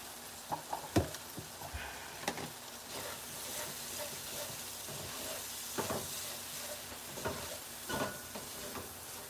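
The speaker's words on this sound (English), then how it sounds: "I'm about to stir this all up and we're about to add our rice" A spatula stirs and scrapes grilled chicken gizzard fried rice with herbs in a pan, giving quiet scattered knocks and scrapes over a soft, steady sizzle.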